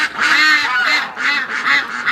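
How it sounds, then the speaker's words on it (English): Several domestic ducks honking and quacking nearby in a pen, a rapid run of loud nasal calls in repeated bursts, no talking. "So the ducks want out"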